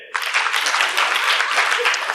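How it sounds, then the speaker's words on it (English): Workshop audience claps steadily for about two seconds, the applause starting abruptly and holding at an even, fairly close level with no talk over it. "let's clap for both of them"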